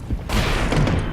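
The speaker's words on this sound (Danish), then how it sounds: "De der bomber, de er så bare knivskarp." In the game DEPTH, a bomb goes off with a sudden close boom, followed by a rumbling burst of blast noise lasting about a second.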